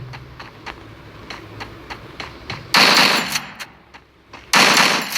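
Gunfire in the Free Fire video game rings out nearby: a series of single shots at a regular pace, followed by two loud, dense bursts of automatic fire.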